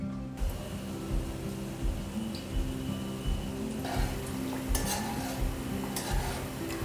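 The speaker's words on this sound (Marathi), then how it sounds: "अगदी मंद गॅसवर हे आपल्याला सगळं तळून घ्यायचं आहे." Balushahi frying gently in oil over a low gas flame, a soft steady sizzle and bubbling with occasional clinks of a utensil against the pan, close and continuous without talk.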